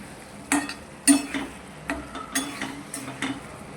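Vegetables go into a hot pan and fry, giving short sizzling bursts and stirring scrapes in an irregular rhythm, close and moderately loud over a quiet kitchen background.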